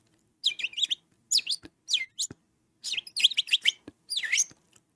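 Birds chirping in quick bursts of high, bright tweets, several phrases separated by short pauses, fairly close and clear with no talk.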